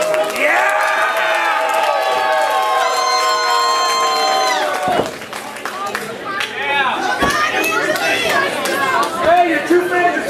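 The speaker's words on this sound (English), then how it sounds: "your two fans are cheering for you" Fans at a wrestling show cheer, whoop and shout loudly, with high children's voices rising throughout and a brief dip midway before the noisy crowd picks up again.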